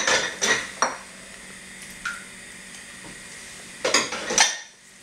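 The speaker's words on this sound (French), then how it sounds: "Cette partie-là, on la mélange bien." Eggs being whisked together with sugar, lime zest and chopped basil in a bowl, giving a few sharp clinks and scrapes of utensil against the dish, spaced out with quiet stretches between.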